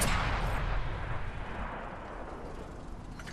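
A heavy tank cannon booms once at the start in World of Tanks, a loud blast that rolls into a long fading rumble with no voices.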